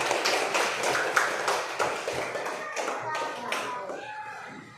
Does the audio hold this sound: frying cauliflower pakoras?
no